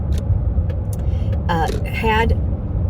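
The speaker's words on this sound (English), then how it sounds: "So we went to Chicago, a nice car ride." A car's steady low engine and road rumble on a road trip to Chicago, continuous throughout, with brief speech over it.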